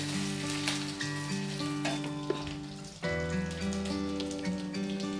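Ginger and ground spices frying in a pan for a vegetarian ash gourd and potato curry, a dense crackling sizzle with spatula stirs, swelling louder partway through as more goes in, close up and without talking.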